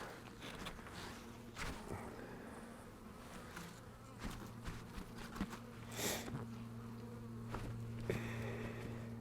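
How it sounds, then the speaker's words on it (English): Honeybees in a nuc box hive in January hum in a soft, continuous buzz, faint and close, with occasional louder passes of individual bees and light handling knocks. "So we got a pretty good cluster of bees right in here."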